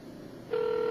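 A telephone line tone sounds during a call to the High Court in London: a brief background hiss, then a steady, clear, loud tone that starts midway and holds to the end.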